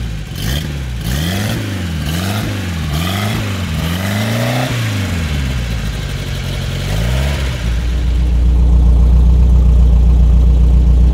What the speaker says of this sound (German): so hört sich eine Fuhrmann-Maschine an, richtig giftig